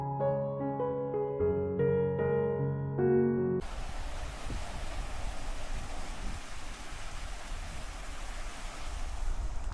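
A stream flows through a forest, heard as a constant, fairly loud hiss and rush of running water that starts abruptly after a short passage of music and then continues alone.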